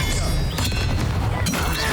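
The Expelliarmus disarming spell is cast in the Hogwarts Legacy video game, producing sharp booming impacts in two loud bursts over a dense, noisy backdrop of game effects.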